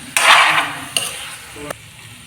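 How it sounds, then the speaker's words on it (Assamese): Mutton curry with garam masala being stirred in a pan, three distinct scraping strokes of a spoon against the metal with a soft sizzle beneath, close and fairly loud. "এতিয়া এনেকৈ অলপ লৰাই থাকিব লাগিব, মছলাটো যাতে গোটেইখিনি মাংসত ভালদৰে মিক্স হৈ যায়।"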